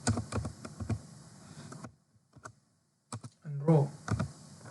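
Computer keyboard typing comes in quick bursts of light key clicks with a brief pause between them, close and fairly quiet, and someone talks briefly near the end.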